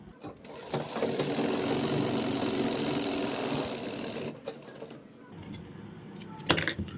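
A sewing machine stitches a reinforcing seam over a loose palazzo pocket, running steadily and fairly close for about four seconds, then pausing amid soft handling clatter before a brief burst near the end.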